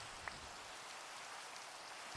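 Steady rain hisses evenly in a Minecraft world, a constant soft wash of falling drops with one faint tick early on, no voices.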